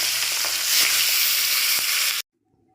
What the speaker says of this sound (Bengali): এবার আমি মাছগুলো দিয়ে ভেজে নেব ভালো করে।